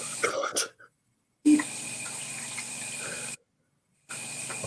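Hot water runs from a tap in bursts, a steady hissing stream that stops and starts again, with brief talk and clatter at the start.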